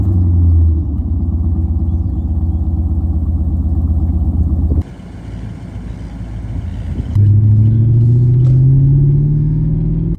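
A 1995 HSV VS GTS rumbles along with a steady, loud engine drone from inside the cabin, dips briefly during a gear change, then pulls hard again with the pitch climbing.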